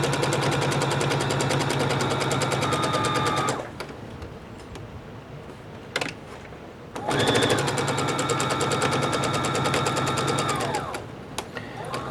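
A sewing machine stitches a fabric face mask in long, rapid, steady mechanical bursts, pausing briefly mid-run and then resuming, with a quiet voice in the gap.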